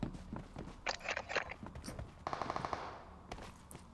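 Gunfire in the mobile battle royale game PUBG Mobile, Metro Royale mode: scattered shots and a short automatic burst at mid distance, mixed with footsteps and game ambience.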